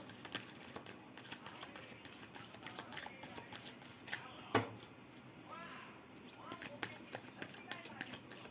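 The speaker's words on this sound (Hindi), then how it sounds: "अगर आपको शफलिंग पसंद नहीं है तो आप इसको स्किप भी कर सकते हो" Tarot cards being shuffled by hand, a run of quick crisp riffling flicks and papery slaps, close up, with a sharper knock near the middle and no talk over it.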